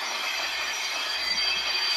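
A train rumbles in a video game, with a steady loud metallic hiss and a ringing squeal carrying throughout, with no voices over it.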